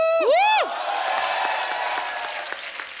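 A TV comedy show studio audience applauds as Bollywood actress Hema Malini is welcomed on stage. A shrill whoop or whistle opens the clip, followed by dense, sustained clapping from the crowd.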